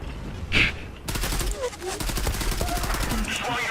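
Rapid automatic rifle fire from an AUG A3 in the online shooter Zula, a dense stream of sharp repeated shots after a brief lull, with a faint voice in the background.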